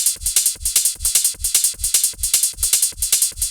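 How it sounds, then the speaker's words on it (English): A techno ride cymbal sample from a 1994 sample CD repeats in a steady, pumping loop of bright, shimmering hits, each paired with a deep thump and ducking in volume between beats. "a very simple ride cymbal from the Master Bits Techno"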